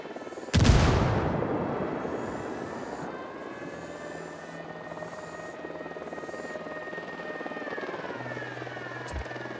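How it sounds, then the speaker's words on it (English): Helicopter in the video game Ghost Recon Wildlands, a steady rotor drone that swells after a sharp burst at the start and holds loud and continuous through the clip, with a low engine hum underneath. "We got a chopper coming in."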